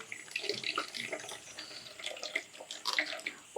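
Extracted milk from moong dal payasa ingredients trickling down into a vessel, a faint, uneven splashy pour with small gurgles and drips continuing throughout, fairly close.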